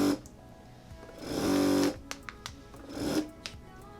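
A MagicVac Maxima 2 vacuum sealer pulses its pump to draw air from a loaded bag, two loud mechanical whirring bursts separated by clicks and small handling noises, close up with no talking.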